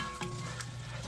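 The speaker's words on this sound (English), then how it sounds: "I'm just going to let this simmer a while." Tomato and chili sauce with onions and meat simmers in a pot, giving a steady, close bubbling sizzle with a low hum underneath and a couple of brief stirring clinks.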